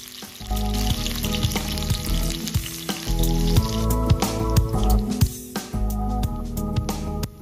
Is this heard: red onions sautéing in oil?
yes